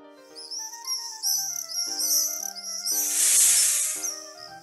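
A snake hissing sound effect in a children's folktale, where a big snake climbs toward a swallow's nest under a roof; a loud breathy hiss swells for about a second over a light plucked melody, with no speech.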